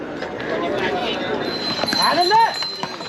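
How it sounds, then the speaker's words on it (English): Horses on the crowded Kedarnath trek path, with hooves and a neigh-like whinny toward the end, heard under a constant wash of crowd noise and nearby voices. "Again, horses are coming from all sides."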